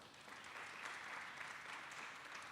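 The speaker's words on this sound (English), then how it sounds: "So please give these 3 lovely panelists a warm round of applause." Audience applauding three panelists at a community awareness panel discussion, a steady wash of many hands clapping, fairly distant and even throughout.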